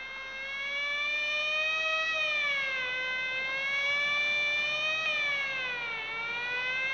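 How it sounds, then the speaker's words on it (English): A siren wails in a sustained, harmonically rich tone that slowly rises and falls, loud and steady, with no voices. "Quite unnecessary use of that siren"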